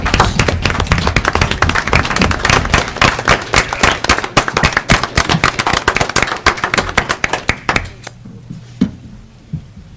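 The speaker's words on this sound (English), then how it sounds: "I think we owe him a round of applause. I want a standing ovation." Council meeting audience giving a round of applause and standing ovation for Roger, in honor of his service to Edgewood: dense, loud clapping from many hands for about eight seconds, then trailing off into a quieter room.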